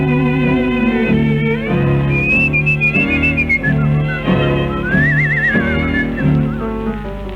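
Someone whistles a lilting tune with wavering notes over a steady musical accompaniment, loud and close.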